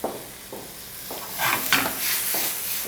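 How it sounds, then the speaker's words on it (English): A pan of butter, thyme, salt and pepper being stirred, with a utensil scraping and clinking in short strokes over a soft, steady sizzle, close and fairly loud, with no voices. "Give this a little stir."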